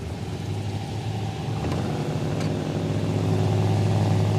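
A Holden HQ street car of around 1,000 horsepower idling with a deep steady engine rumble that swells slightly louder toward the end, heard alone without talk.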